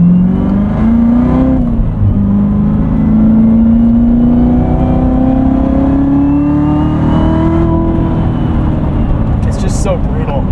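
Supercharged V8 of a 2019 Chevrolet Corvette Z06 with a seven-speed manual, driven at night from inside the car, droning loudly and climbing steadily in pitch under acceleration, with a brief dip around a shift.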